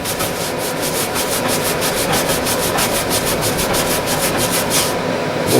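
Grease-stained fabric is scrubbed hard with Fast Orange hand cleaner, a rapid, rhythmic scratchy rubbing that repeats steadily and close up, with no voices.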